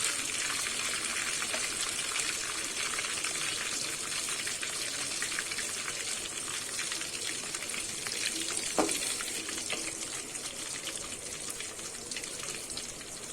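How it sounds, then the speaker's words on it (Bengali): Chicken pieces fry in hot oil in a pan for a Bengali chicken kosha, giving a steady, dense sizzle that runs unbroken throughout, with one brief scrape or stir near the middle and no voices. "আমার কিন্তু সব মাংসগুলো ভালোভাবে ভেজে নিয়েছি।"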